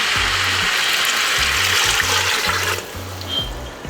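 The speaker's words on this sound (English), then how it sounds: "I like just adding pure water" Water pours and splashes steadily into a pot of birria broth, with a low rhythmic knocking underneath before the flow eases near the end.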